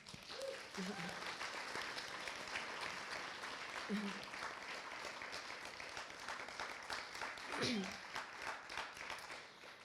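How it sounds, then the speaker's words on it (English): Audience at a talks event gives a sustained round of applause, steady dense clapping lasting throughout, with a few faint voices and whoops rising briefly above it. "Let's give her another round of applause."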